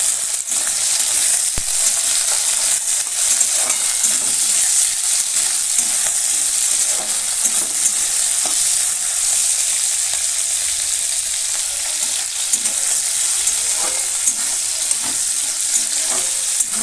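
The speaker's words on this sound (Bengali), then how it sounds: "এরপর দিচ্ছি বরবটি, গাজর। এটাকে মিডিয়াম আঁচে ভেজে নেব।" Yardlong beans and carrots fry in hot oil over medium heat, a steady close sizzle with occasional stirring scrapes throughout.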